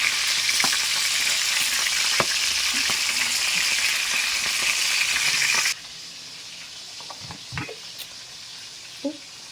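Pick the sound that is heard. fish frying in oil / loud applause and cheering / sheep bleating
fish frying in oil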